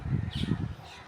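Birds caw and call in short bursts close by over waterlogged former paddy fields, a busy chorus of harsh cries with soft background noise.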